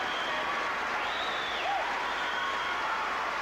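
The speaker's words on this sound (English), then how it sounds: "ovation from the crowd here for a super effort" Sustained crowd applause and ovation in an arena at the 1980 NBL Grand Final basketball game between the St Kilda Saints and West Adelaide Bearcats, a steady broadband roar heard alone, with a faint whistle-like tone sweeping through it.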